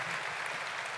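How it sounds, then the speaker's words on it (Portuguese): A church congregation gives a brief round of applause, a dense, even wash of clapping heard at moderate distance for about a second. "Uma salva de palmas"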